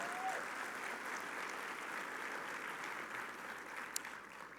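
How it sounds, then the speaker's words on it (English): Steady applause from a conference audience at a breakfast session of the US Hispanic Chamber of Commerce national conference, even and sustained at moderate distance. "That's a big round of applause right there."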